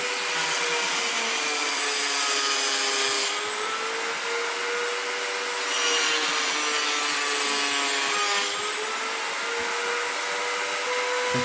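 A Parkside cordless multi-grinder cuts through aluminium, a loud, steady high-pitched whine with a gritty rasp that rises and falls slightly in intensity as the cut continues.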